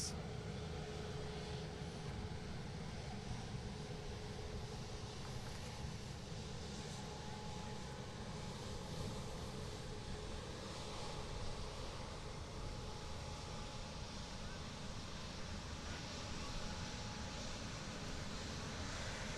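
An Etihad Airbus A350-900 in special Choose Thailand livery taxis past at Manchester Airport, its engines a steady, faint, broad rumble and whine that holds evenly throughout with no talking.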